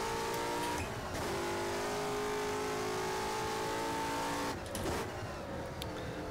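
Racing cars in the rFactor sim drive flat out, engines revving loud and steady with rising pitch, shifts cutting through around one second and again near four and a half, and no talk over it.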